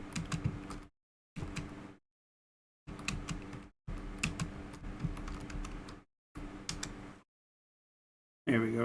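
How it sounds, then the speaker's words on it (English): Typing on a computer keyboard, close and clear, in several bursts of rapid clicking separated by short silent pauses, with no voices. "I don't know what happened to my typing."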